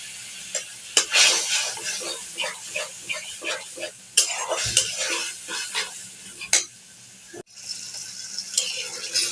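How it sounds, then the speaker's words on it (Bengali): Spices with turmeric and chilli powder being stirred and fried in a pan for a crab dish: repeated scraping spatula strokes over a sizzle, close and uneven, with a faint voice in the background. "এখন নেড়ে চেড়ে ভালো করে মশলাটাকে কষিয়ে নেব"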